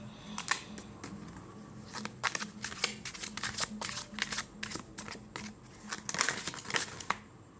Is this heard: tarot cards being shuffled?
yes